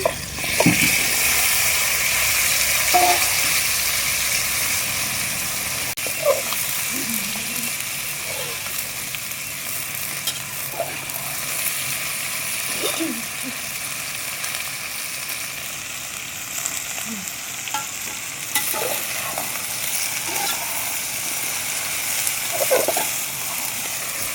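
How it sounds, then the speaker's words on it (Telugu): Okra pieces fry in a pan with sautéed onion and green chili for a garlic okra fry, giving a steady broadband sizzle with scattered small pops and crackles throughout. "బెండకాయ ముక్కలు అనేది బాగా ఫ్రై అవ్వాలండి."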